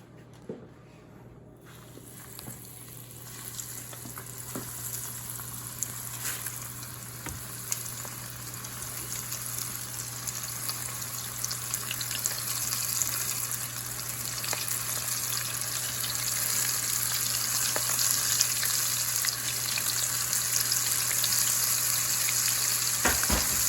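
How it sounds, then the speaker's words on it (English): Gulf shrimp deep frying in hot oil, about 25 in the batch, producing a continuous close crackling sizzle that builds gradually louder, with a steady low hum and a few faint clinks behind it. "Just enough to fry about 25 shrimp."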